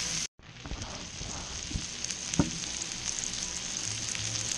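Blackened mahi mahi fries in a pan with a steady close sizzle and crackle, broken by a brief dropout and a few small knocks from the pan.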